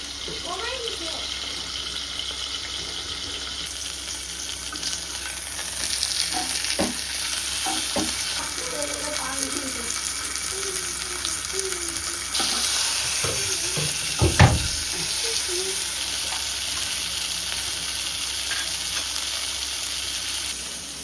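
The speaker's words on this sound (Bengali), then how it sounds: "এখন আমি মাংসটা চুলার উপরে দিয়ে দিচ্ছি।" Beef steak frying on a stovetop gives a steady broadband sizzle throughout, with occasional clinks and stirring sounds and a brief louder thump partway through.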